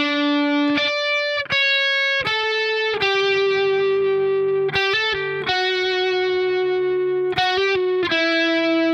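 An overdriven electric guitar carries the lead melody from a song, a string of sustained notes joined by hammer-ons and slides down the neck, played up close and steady with no voices over it.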